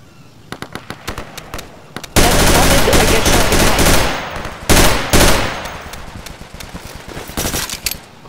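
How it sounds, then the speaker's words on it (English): Bursts of automatic gunfire from the video game Insurgency, loud and close, with sporadic single shots early on, a sustained rapid volley, then another intense burst before fading to scattered shots. "someone just started to shoot me"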